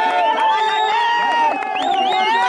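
A packed stadium crowd at a hillside cricket match cheers and whoops loudly, a dense wall of voices rising and falling continuously.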